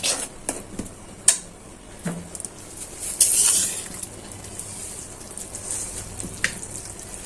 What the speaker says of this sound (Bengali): এখন নেড়ে চেড়ে ভালো করে মশলাটা কষিয়ে নেই।